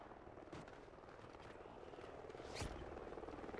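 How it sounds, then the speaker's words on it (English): Friendly helicopter from the Helo pilot killstreak in Call of Duty: Ghosts, a faint steady rotor drone with scattered distant thuds of gunfire and a brief sweeping whoosh near the end. "Friendly Helo pilot active."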